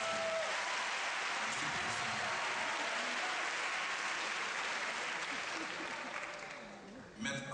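An audience at a Côte d'Ivoire tribute gathering for P.E. Lumumba claps steadily in a dense, continuous wash of applause that fades slightly toward the end before a brief swell.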